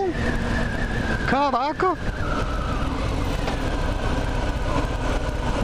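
A 2020 Harley-Davidson Fat Bob with its 107 engine runs steadily, a constant low engine rumble under someone talking, with a brief rising-and-falling whine partway through.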